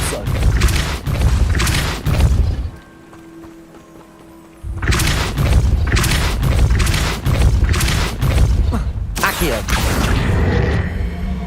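Depulso spell cast in the video game Hogwarts Legacy, loud booming thumps repeated in quick succession with a short quieter gap midway, alongside spoken voice.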